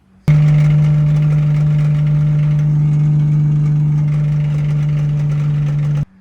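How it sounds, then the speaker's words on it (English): A freshly installed big-turbo Nissan RB25NEO engine idles in a car, a loud, steady, even drone with a strong low hum that runs unbroken from start to finish. "the motor is healthy. I'm making good oil pressure. It sounds good, nothing sounds out of place"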